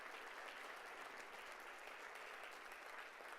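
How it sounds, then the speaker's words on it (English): Sustained audience applause at a university luncheon in Chicago, dense even clapping from a large room lasting throughout, fairly distant and uniform. "yes, they deserve a round of applause"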